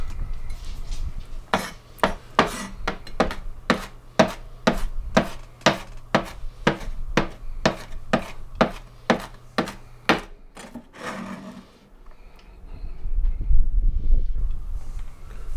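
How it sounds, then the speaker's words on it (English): A knife chops a celery stick finely on a wooden board, giving about twenty crisp, evenly spaced taps, then the pieces are scraped and moved with soft rubbing. "Now we're going to chop up 1 stick of celery. Again, this has to be finely chopped up."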